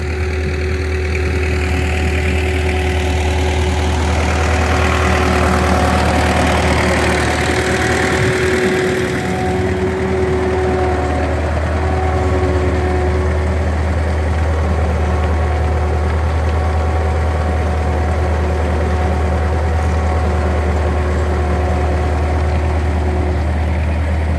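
A steady, low tractor engine idles on for the whole stretch, a constant rumble with a faint knocking beat and no voices over it.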